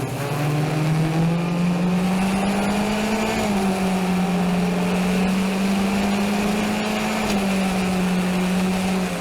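Racing cars in a Montreal street race hold a loud, continuous engine whine close by, the pitch climbing and dipping gently with gear changes and throttle, with no talk over it.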